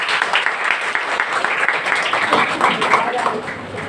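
An audience at a women's day club event claps in welcome for a doctor, a continuous dense patter of applause, fairly loud, with voices mixed in.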